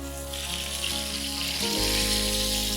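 Meat and onion frying in a kazan, a steady loud sizzle with a low background hum.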